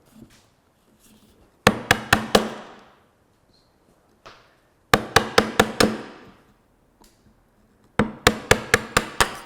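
Mallet tapping a wooden part into place for a marshmallow catapult, in three quick bursts of four or five sharp knocks each, separated by pauses, close and clear with no voices.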